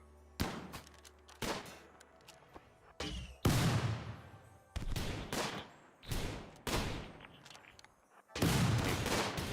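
Colonists firing guns during a raid in a colony survival game, loud separate bursts of gunfire repeating every second or so, each crack followed by a short decaying tail, with quiet gaps between volleys.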